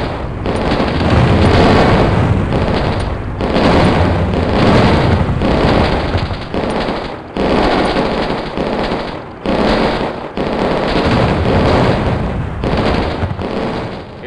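Dense, loud bursts of artillery fire and explosions in the Red Rover strategy video game, booming blasts coming in near-continuous waves with brief gaps between them.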